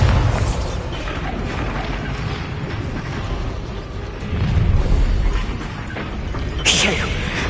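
The Bombarda spell in the video game Hogwarts Legacy sets off booming blasts amid dense, loud combat noise, with a heavy burst near the middle and another sharp crack toward the end.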